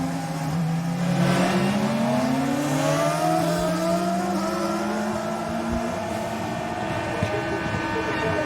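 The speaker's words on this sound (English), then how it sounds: "A delighted Felipe Massa tours around, picking up little bits of rubber just to increase the weight of his car" A 2008 Formula 1 car tours the circuit at the French Grand Prix, its engine holding a loud, high whining tone that rises and falls steadily for several seconds, with a commentator talking over it.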